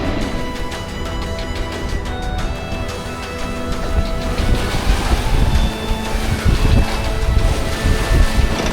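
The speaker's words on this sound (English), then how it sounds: "Finally got wind to sail on," Strong wind roaring at sea aboard a sailboat in the Arctic, with waves washing, rain, and a constant blustery rush of air, growing louder in the second half.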